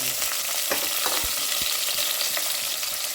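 Onions go into fennel seeds already frying in oil, setting off a steady, close sizzle with a few soft knocks and stirring taps through it. No one speaks.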